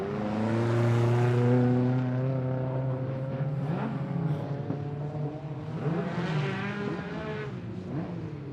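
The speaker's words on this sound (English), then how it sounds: "Just getting the cars formed up on the line there" Stock cars at a Border Stockcars meeting revving and moving slowly as they form up on the line, several engines droning and shifting pitch together at a moderate distance, with no speech.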